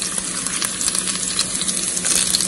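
Cloves and cumin crackle and sizzle loudly and continuously in hot oil as a tempering for aloo matar rice, a dense close-up spitting sound with no voices.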